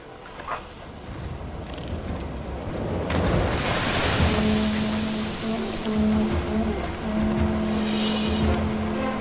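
Horror-themed area music plays during a ride in the Planet Coaster game, with sustained low tones emerging over a surging, wind-like rushing wash that swells and stays fairly loud.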